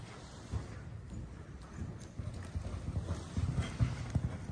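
Horses trot during a group riding lesson, hooves clip-clopping in a steady rhythm on an arena surface, with faint background noise and no speech.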